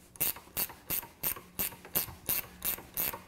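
A ratchet wrench clicks in about nine short, sharp, evenly spaced bursts while working a stubborn, long-frozen nut off an engine stud in an automotive engine, close and alone with no talk.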